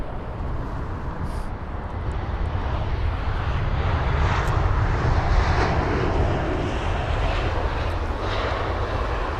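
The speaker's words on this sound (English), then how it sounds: "we won't focus much on that A320" An Airbus A320 at London Heathrow roars steadily with a loud, sustained broadband jet engine rumble that swells slightly mid-pass, with no voices over it.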